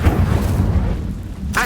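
The Incendio fire spell goes off in Hogwarts Legacy as a loud, deep rumbling whoosh that sustains like a fiery blast, with a brief sharp flare right at the end.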